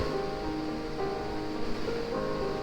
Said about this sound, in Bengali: আমাদের মাছগুলো বলক চলে এসেছে।